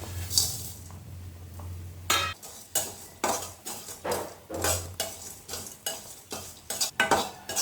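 Dry spices toasting in a pan as a utensil stirs and scrapes in repeated bursts, with light clinks against the metal and a faint crackle, close and without talk.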